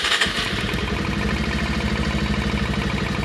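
A Bajaj Pulsar 150 BS6 motorcycle engine runs at a steady loud idle just after starting, a continuous close mechanical hum with no talk.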